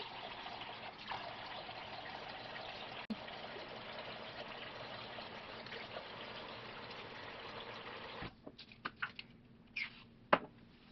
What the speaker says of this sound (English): I'm going to get my hair wet and kind of scrunch it